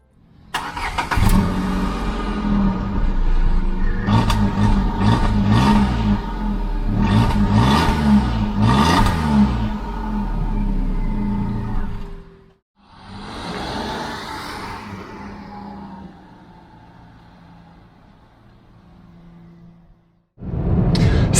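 A 2020 Renault Kwid Climber driven around town, its small engine revving and rising through gears in loud bursts, dropping to quiet gaps, then idling and pulling away again, with no talking.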